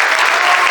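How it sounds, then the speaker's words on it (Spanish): Steady applause from an audience at an international book fair panel, many hands clapping in a thick, even roar that fills the whole brief moment, with no voices on top. "les pido un aplauso para cada uno, por favor"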